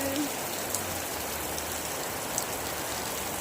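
Steady rain falls in Uvari, a village setting, making a continuous soft hiss with occasional louder drips, fairly faint and even throughout, with no one talking.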